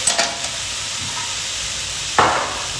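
Two spoonfuls of water hit a hot pan holding a poached egg beside vegetables, with a few light clinks, then a steady close hiss and sizzle that keeps going, and a sharp burst of spitting near the end.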